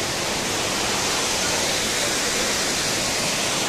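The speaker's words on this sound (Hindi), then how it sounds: "तो छोटा सा है झरना" A small waterfall at Elephant Falls near Shillong rushes in a steady, close, dense roar of falling water with no break.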